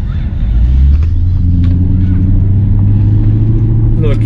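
A Maserati GranTurismo engine idles and revs with a deep, steady rumble, loud and close, while a voice talks over it.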